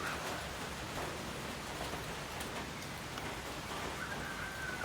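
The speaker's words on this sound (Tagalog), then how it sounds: "Umuulan." Steady rain falls in a rural province with some wind, a dense, even hiss with scattered drops and no voices.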